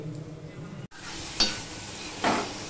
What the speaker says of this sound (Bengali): এবার মশলাটা কষানো পর্যন্ত আমি অপেক্ষা করব।